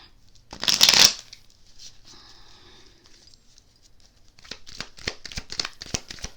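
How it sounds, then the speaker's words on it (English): A quick riffle of tarot cards, loud and close, then quiet handling and a run of soft rapid flicks and taps as the deck is shuffled again. "Let's shuffle the deck"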